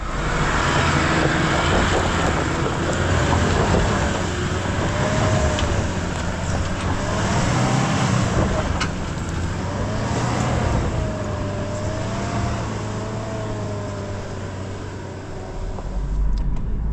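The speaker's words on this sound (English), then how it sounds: "So it's a bit of wheel spin, then it grabs it, tries to send it to the other wheel, and eventually gets up." A 2025 Toyota LandCruiser 76 Series with a manual gearbox spins its wheels while climbing a hill off-road. The engine drones loudly and steadily throughout, its revs rising and falling as the wheels spin and then grab.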